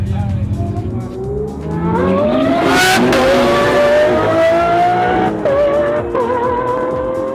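Wide-arch Lamborghini Huracan in a roll race on a closed track, its engine revving hard and climbing through the gears with rising pitch, loud and close, with brief shift breaks.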